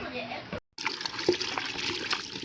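Okra washed under a running kitchen tap: a steady, close hiss and splash of flowing water that continues without a break except for one short gap early on.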